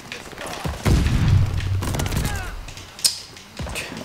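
Gunfire in the video game Call of Duty: Vanguard, a few scattered booming shots and sharp cracks at irregular intervals over low game ambience.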